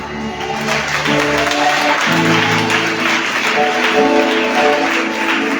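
Audience applause at a French-speaking church prophecy gathering, a steady wash of clapping lasting throughout with background music tones and a loud, continuous crowd texture.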